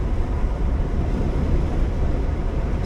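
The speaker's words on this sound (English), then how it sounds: "when I'm moving with the windows down, it's just too much wind even for a Zippo lighter to handle" Heavy wind roars steadily through the open windows of a moving 1980s diesel Mercedes, a dense, buffeting rush that stays loud and unbroken throughout with no voices over it.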